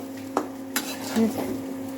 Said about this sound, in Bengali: একটু সবজিটা কষিয়ে নিচ্ছি